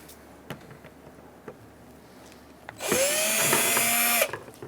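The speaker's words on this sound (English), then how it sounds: "We're going to use a Phillips head screwdriver." A power tool removes fasteners while a radiator is replaced on a 2007-2017 Ford Expedition 5.4L V8. A short, loud high whine runs for about a second and a half after a few faint taps and clicks.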